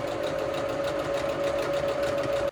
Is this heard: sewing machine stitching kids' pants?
yes